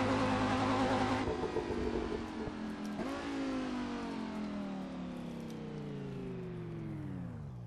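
A Lamborghini V10 mid-engine in a short-wheelbase car in Assetto Corsa, revving hard then shifting and climbing, its pitch falling off as the car slows, loud and alone.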